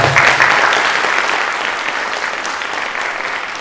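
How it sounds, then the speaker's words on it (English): An audience at a college presentation gives a full round of applause, loud at the start and then gradually thinning and softening over nearly four seconds of continuous clapping. "Let's give him another round of applause."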